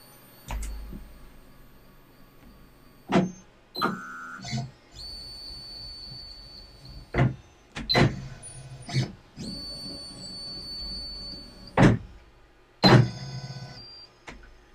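A Onefinity CNC machine moves through its homing routine: a low motor whir, intermittent high whines from the axes, and several sharp clunks and thuds at irregular intervals.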